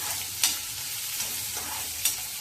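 Onion sautés in a pan with a low, steady sizzle, quiet and close, broken by a few soft stirring scrapes.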